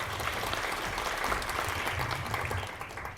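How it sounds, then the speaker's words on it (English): An audience in a lecture hall applauds a guest editor being welcomed to the stage. The clapping is steady and full-bodied, continuing evenly for a few seconds before easing slightly at the end. "a round of applause."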